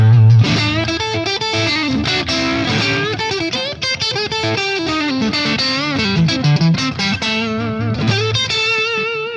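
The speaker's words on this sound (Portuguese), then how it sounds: "Então esse é o som de Plexi que eu tenho aqui nesse canal." Overdriven electric guitar through a Marshall Plexi amp simulator, with a crunchy, gritty amp tone, playing chords and riffs continuously at steady loudness.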